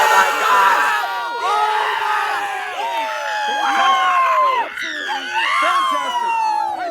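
Loud, close crowd at an elite finals event cheering, whooping and screaming in a sustained roar with shrill rising and falling cries, and a voice yelling over the top.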